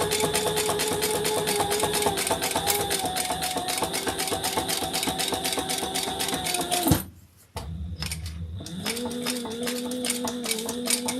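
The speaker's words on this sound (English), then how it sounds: "we want to stitch that together at the seam allowance in the pattern" A sewing machine runs steadily, stitching a fabric seam at the pattern's seam allowance, with a fast rhythmic mechanical chatter. It stops briefly near the end, then starts up again at a slightly different pitch.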